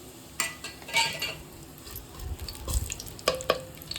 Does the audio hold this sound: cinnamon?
yes